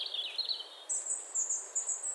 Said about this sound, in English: just something from Splice, headed on loop, without everything post-processing